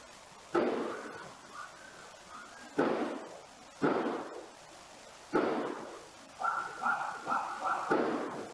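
Several sharp, loud bangs ring out one at a time, each followed by a brief echoing decay, with a rapid cluster of shots near the end.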